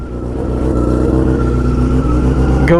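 A Yamaha R6 track bike with a competition slip-on exhaust revs hard nearby, its engine note climbing steadily and loudly with no talk over it.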